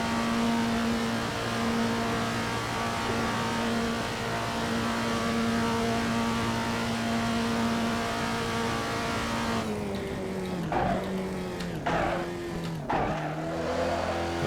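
A classic Datsun 240Z in Assetto Corsa holds a loud, steady engine drone, then downshifts near the end. The revs blip and fall in quick steps as the tires squeal.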